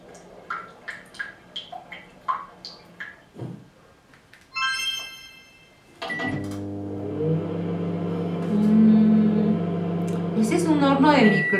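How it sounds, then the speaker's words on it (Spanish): A series of short beeps, then a microwave oven humming steadily as it runs, with a clatter and a voice briefly audible at the start. "Microondas. Sí,"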